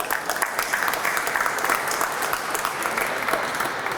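Steady audience applause at a city hall ribbon cutting and press conference, a dense wash of many hands clapping at an even level throughout.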